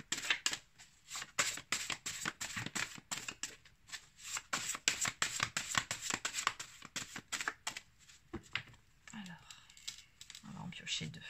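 Oracle cards are shuffled and drawn in quick, close papery riffles and flicks, a rapid run of soft clicks that eases off near the end as a quiet voice speaks.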